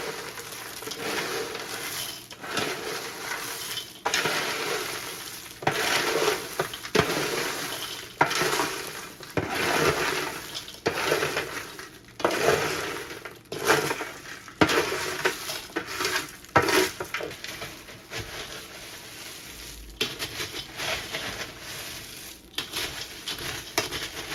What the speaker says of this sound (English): We're going to go ahead and add that right in the mix with the caramel popcorn.